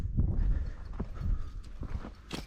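An old horse walking nearby, hooves clip-clopping in an uneven rhythm of muffled thuds over a low background.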